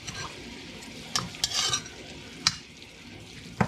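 Catfish pieces coated in curry paste stirred in a pan, with soft frying hiss and scattered clinks and scrapes of a utensil against the pot, quiet and close with no talk.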